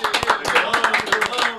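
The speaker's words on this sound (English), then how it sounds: "Let's get a round of applause." A small group claps briefly on a podcast set, a short burst of quick, uneven hand claps, close and fairly loud.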